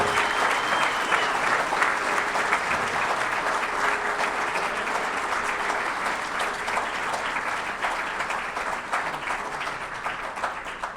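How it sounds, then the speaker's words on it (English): An audience at an awards ceremony claps for the award recipients, giving dense, steady applause that lasts throughout and fades only slightly toward the end. "let's have a good round of applause for all of our recipients tonight"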